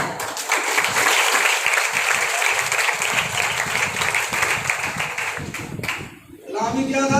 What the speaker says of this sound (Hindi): तुसी तालियां बजा दी